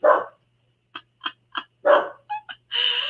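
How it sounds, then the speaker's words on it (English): Several sharp dog barks, a loud one first, then a quick run of shorter yips and a sustained howl-like bark at the end, close by. "my dogs start barking as soon"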